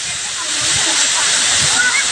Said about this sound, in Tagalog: Tuloy-tuloy ang buhos ng tubig.